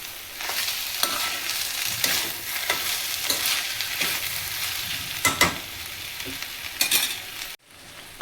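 A spoon stirs cardamom powder into sweet coconut rice (Maharashtrian narali bhat) sizzling in a pan, with a steady soft frying hiss and repeated scraping strokes, close and clear, then a brief cut to silence near the end.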